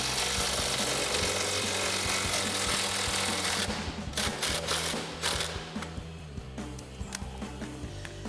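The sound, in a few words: 3/8 impact gun with 18mm socket loosening truck suspension bolt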